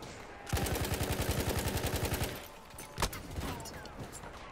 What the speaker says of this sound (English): there's so much explosions going on in this round